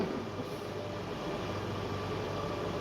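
A train passing nearby, heard from inside a home kitchen as a steady, fairly loud low rumble with a broad wash of noise that holds for a few seconds without a break.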